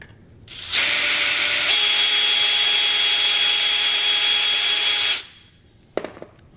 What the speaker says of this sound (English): Probably can do an even better job of drilling it out now.